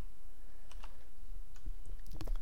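Keys on a computer keyboard tapped while Ruby code is typed during a programming lecture, a few scattered clicks and a quick cluster near the end, fairly faint over a steady hiss, with no talking.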